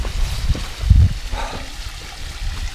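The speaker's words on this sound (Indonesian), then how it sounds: "Besar banget suara airnya." Water flowing over a small waterfall along a hillside hiking trail, a steady near rush with low churning bursts early on, heard alone without voices.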